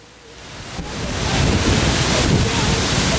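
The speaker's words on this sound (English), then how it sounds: "Here comes a gust." Strong gust of wind from Hurricane Ike remnants in Ohio, a broad roaring rush that swells from moderate to loud and stays heavy, buffeting the microphone with no talk.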